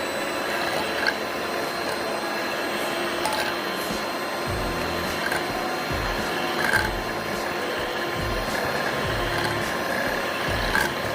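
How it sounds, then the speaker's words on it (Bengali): Electric hand beater whirring steadily through mango chunks and eggs, a continuous mechanical buzz with rhythmic rattling pulses from the beaters against the bowl, close and alone. "আমার হাতের কাছে ইলেকট্রিক বিটার ছিল তাই আমি বিট করে নিচ্ছি।"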